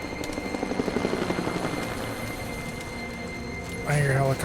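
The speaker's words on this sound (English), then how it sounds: "I hear a helicopter." A helicopter in the Tomb Raider video game flies nearby with a steady, continuous rotor thump that holds throughout. A sharper, louder game sound cuts in near the end.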